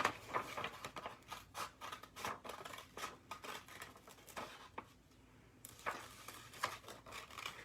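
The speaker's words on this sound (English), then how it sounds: "Follow that line and just cut out your shape." Scissors snip through paper while cutting out a monster shape for a craft, a steady run of close, crisp cuts with a brief pause near the end and no talk.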